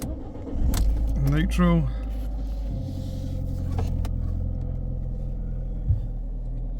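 Fiat 500 with an automatic gearbox starting up, a key jangle and brief starter crank, then the engine catching into a low steady rumbling idle, with a voice speaking briefly near the start.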